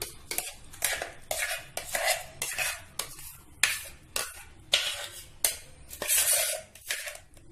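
A metal spoon scrapes ground amaranth greens from a mixer jar into a vessel, giving about a dozen sharp, close clinks and scrapes in an uneven rhythm with no talking.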